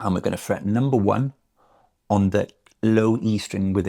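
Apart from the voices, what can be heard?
No everyday noise stands out behind the speech.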